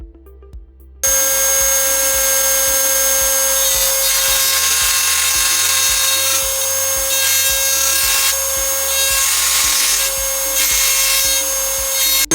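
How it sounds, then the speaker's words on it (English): A Dremel-style rotary tool grinds a broken guide foot off a fishing rod, a loud continuous high-pitched whine that starts abruptly after a second of quiet and holds steady for over ten seconds, close up with no speech. "Vince is going to use a Dremel style tool to remove the guide"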